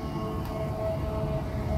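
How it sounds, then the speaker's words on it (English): A curfew siren sounding across a town in the Philippines to call minors home, a steady sustained wail held at a constant level for the whole stretch with low background rumble underneath. "it's a alarm or siren to bring in the curfew for minors"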